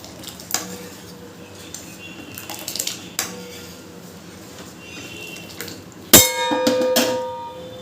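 A ladle stirs boiled red lentil dal in a metal pot, giving soft scrapes and light knocks, then one sharp clang against the pot followed by a ringing, sloshing stretch.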